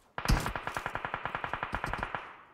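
Rapid automatic gunfire in PUBG Mobile, a heavy-weapons mode match, about seventeen evenly spaced loud shots in a steady burst lasting two seconds, with no talking over it.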